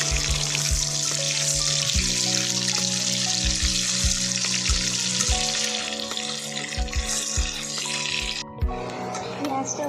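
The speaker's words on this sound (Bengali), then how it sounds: "পেঁয়াজটা ভাজা হয়ে এসেছে।" Chopped onion frying in a pan with bay leaf, cardamom, cinnamon and cloves, a steady sizzle punctuated by regular knocks of a spatula stirring, with some voice in the background.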